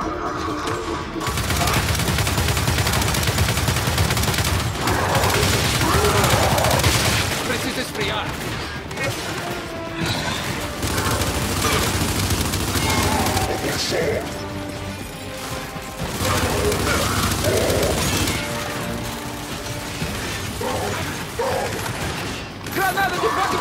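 Dense, loud bursts of turret gunfire and mechanical clatter ring out in the Gears 5 video game, sustained throughout with brief lulls, under shouted voices.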